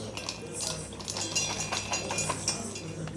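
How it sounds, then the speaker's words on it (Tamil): Pistachios being cut on a board for homemade kunafa chocolate, a quick series of close crunchy chopping and clinking knife strikes over a faint low hum, with no talking. "பிஸ்தா வந்து நம்ம கட் பண்ணலாம்."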